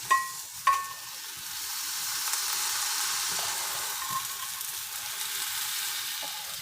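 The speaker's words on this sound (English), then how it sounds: "You can hear it sizzling." Stuffed plantain cups made with jackfruit sizzle steadily in a hot pan as water cooks out of them, a continuous bright hiss with two short clatters at the start.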